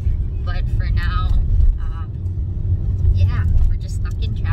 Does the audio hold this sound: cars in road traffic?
yes